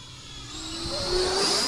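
An E-Flite Viper 90mm electric ducted fan RC jet passes in flight with a rising turbine-like whine, growing louder as it approaches and peaking near the end, with no voices.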